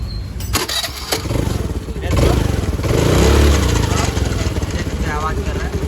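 An old-model Honda Activa 110 scooter with a gearbox problem is started with a few clicks, then its engine runs loud and close, swelling in a rough rev before settling into an uneven idle, with voices over it.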